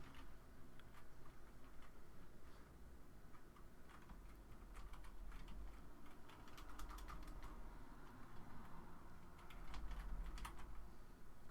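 Computer keyboard being typed on in quick, close, crisp clicks, bursts of keystrokes with brief pauses over a faint steady hum, no voices.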